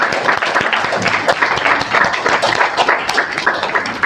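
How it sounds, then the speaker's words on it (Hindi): Audience applause at a college career guidance programme, dense continuous clapping from many hands held steady throughout at close range, with faint voices mixed in. "तालियां रुकनी नहीं चाहिए।"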